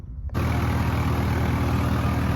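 A Swaraj 855 tractor engine starts up abruptly after a quiet moment and settles into a loud, steady, low diesel drone with a rhythmic throb, heard up close.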